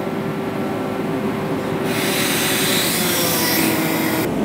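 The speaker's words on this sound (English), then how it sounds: "we can bring the main winch down now" Main winch lowering on an ANDRILL drill rig: a steady mechanical rumble and grinding hiss that brightens and strengthens midway, continuous and fairly loud, then cuts off sharply near the end.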